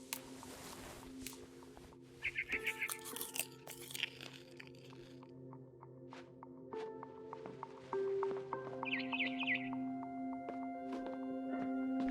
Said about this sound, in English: I ate a lot of things that night.